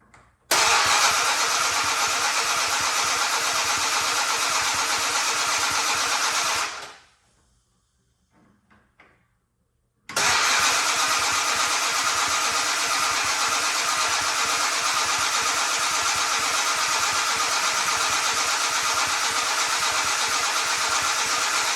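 An old Monaco motorhome, abandoned in a barn for 36 years, runs loudly and steadily, cuts out for a few seconds of near silence with faint sputters, then fires up again and keeps roaring to the end.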